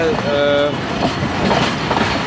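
The Sialkot Express passenger train passing at Lahore Junction, a loud rumbling rush of rail cars with a brief horn-like tone at the start and continuous clattering noise.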